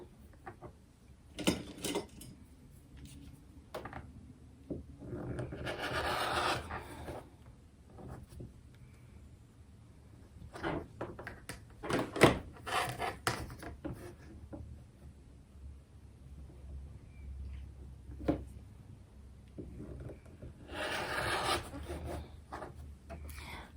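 Rotary cutter or scissors slicing through sewn quilt fabric pieces at a cutting table, giving scattered rough rubbing and scraping bursts with quiet gaps between, close and moderately loud.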